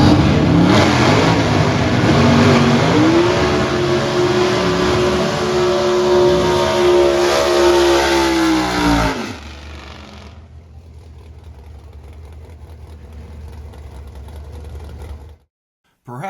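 Castrol GTX Motorcraft Thunderbird drag racer roaring through a loud, sustained burnout at the strip, engine pitch climbing and holding for about nine seconds before dropping to a lower rumble.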